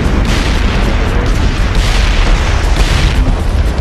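Large base explosion in Socom 4 on PS3, a loud booming blast with heavy sustained rumble and crackling bursts filling the whole moment, no voices over it.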